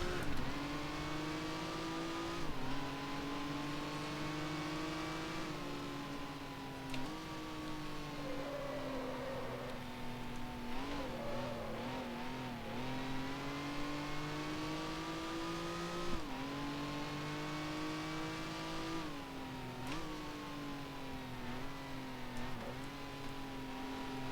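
A 1955 Formula One race car engine in the Grand Prix Legends racing game, steady high-pitched drone rising and falling with gear changes and revs, heard alone at moderate volume throughout.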